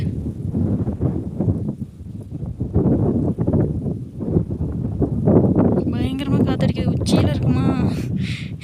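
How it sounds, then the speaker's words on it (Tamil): Strong wind buffeting the microphone on the Meghamalai hill road, a loud continuous low roar that gusts throughout, with people talking over it. "எப்படி இருக்கு செம்ம காற்று"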